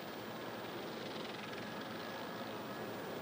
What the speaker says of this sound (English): That's the tires burning out there.